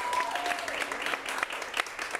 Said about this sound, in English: Applaud for all of them, but applaud for the one you want to go forward